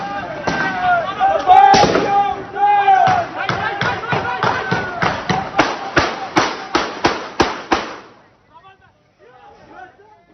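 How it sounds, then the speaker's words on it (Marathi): Gunfire in news footage of an attack that left many dead, heard as a rapid series of loud, sharp bangs. They come close together over several seconds, then stop abruptly and leave faint background noise with distant voices. "याच गोळीबाराची दृश्य आपण पाहतोय"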